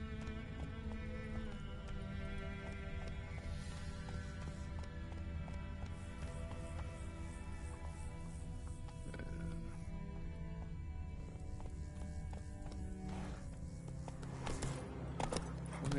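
Roach, Geralt's horse in The Witcher 3, gallops with a steady run of hoofbeats buried in a dense bed of game music and ambience, with no talk.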